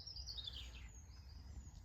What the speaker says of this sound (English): Don't you think the birds sound beautiful in the background?